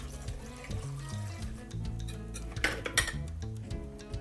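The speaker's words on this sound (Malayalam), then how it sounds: "കുറച്ച് വെള്ളം ഒഴിക്കേ" Water is poured into a pressure cooker holding pumpkin with turmeric and salt, a faint trickling splash with metallic clinks of the pot, quiet and close, no talk heard.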